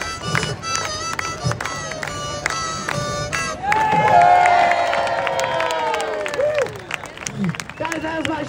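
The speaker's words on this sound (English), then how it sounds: "Everybody, do me a favor, clap." A street show audience in Leicester Square, London, claps in rhythm, then breaks into cheering and shouting, with a performer's voice and crowd chatter over it.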